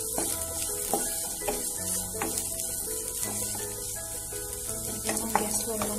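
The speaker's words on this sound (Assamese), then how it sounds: "মিছা মাছখিনি মই ভালদৰে সিজালকৈ ভাজিম।" Small shrimp fry in a pan with ground red chilli, a steady close sizzle broken by the scrape and clatter of a spoon stirring at irregular intervals.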